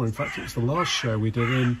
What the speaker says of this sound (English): Sorry about the noisy birds.